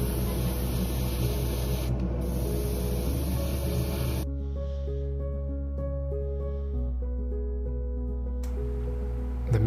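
Short bursts of aerosol primer hiss across the interior parts of a 1/24 scale Ferrari SF90 Stradale model, two close sprays in quick succession, then a quiet stretch with a low hum before another spray begins.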